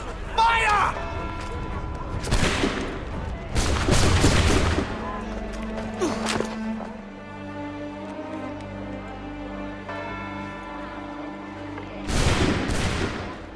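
Musket volleys in Assassin's Creed III: several loud, booming bursts of massed gunfire, the first ringing out right after a shouted order, with rumbling tails and quieter gaps between.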